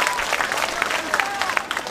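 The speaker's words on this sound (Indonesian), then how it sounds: "Tepuk tangan buat Banser." Brief burst of audience applause at an Islamic religious gathering, lively overlapping claps from a crowd with voices mixed in.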